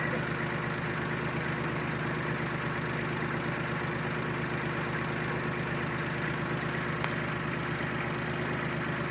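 A Kubota L3800 compact tractor's diesel engine idles steadily at close range, a constant low rumble with no voices, holding even for the whole stretch.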